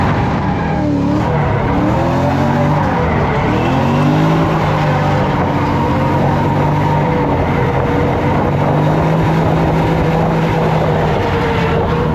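A Pontiac GTO drifting in a snowy North Pole setting in a racing video game, engine roaring loud and continuous with long sweeping tire squeals rising and falling throughout, no voices.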